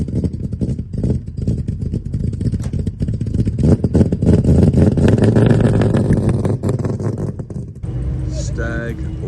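A Triumph Stag's 3-litre V8 runs loud and close at a classic Triumph car show, with a rough revving rumble and clatter, under steady nearby talk, then a short quieter stretch at the end.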